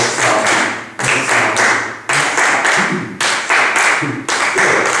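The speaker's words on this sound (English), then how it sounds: "When you say wasabi, you clap, it goes like this." A group of singers in a body-percussion session claps an offbeat rhythm on the word "wasabi," giving loud, sharp clap bursts repeated in regular phrases of about one second, with a brief pause between each.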